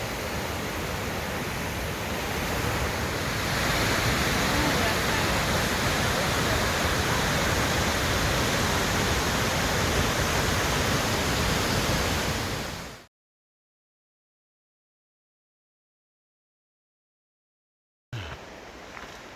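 A loud, steady roar of rushing water from a nearby waterfall along the Pacific Crest Trail, continuing unbroken for several seconds before cutting to silence.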